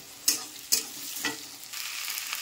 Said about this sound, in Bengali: আলুটা একটু লাল লাল করে ভাজা করে